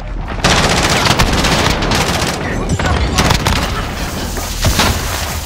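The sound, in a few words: cruise missile strike explosion in Call of Duty: Modern Warfare video game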